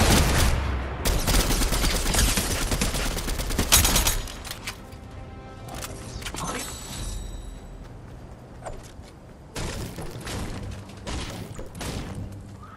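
Gunfire in the video game Fortnite: dense, continuous rapid-fire bursts with sharp cracks and booms, loud and close, easing briefly midway before the volleys resume.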